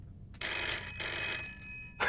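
Electronic telephone ringing in a video game, two long trilling rings with a short gap, then the start of a third, clear and fairly close with no talk.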